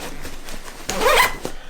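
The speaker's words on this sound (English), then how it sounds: "zip this all up" Someone closes a Peak Design Medium Camera Cube with a quick, close zipper pull, a short rasping burst after a few light handling taps.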